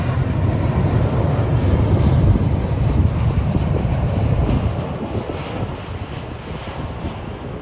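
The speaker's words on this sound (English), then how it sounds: "Watch some planes take off." A loud, broad jet engine roar that swells and then slowly fades as the aircraft takes off and pulls away at a very busy airport, with no voices.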